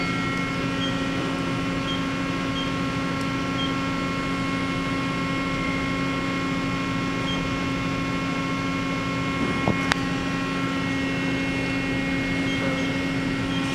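Mori Seiki NL3000Y CNC turning center running its C-axis, a steady machine drone with layered tonal hum held evenly throughout, plus one brief click near the end.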